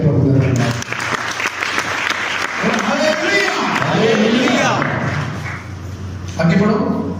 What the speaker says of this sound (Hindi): ताली जाके प्रभु दा धन्यवाद।